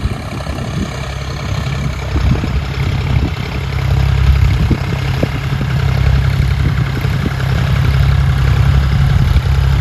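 A farm tractor's diesel engine idles loudly and close by, a steady low rumble with a slight swell partway through. It continues alone for the whole stretch, with no voices.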